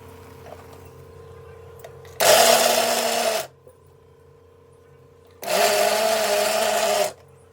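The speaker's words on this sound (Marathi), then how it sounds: "आपण हे तुरीचे दाणे वाटून घेऊया" A kitchen mixer grinder grinds fresh green pigeon pea (tur) beans in two loud whirring bursts of about a second and a few seconds each, separated by a quiet pause with low background hum.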